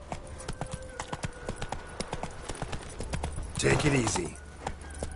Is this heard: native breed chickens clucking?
no